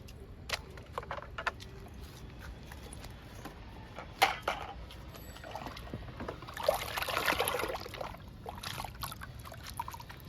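Liquid fertilizer pours onto a potted cherry plant outdoors, a soft trickling splash that swells for a few seconds midway, with scattered clicks and handling knocks around it.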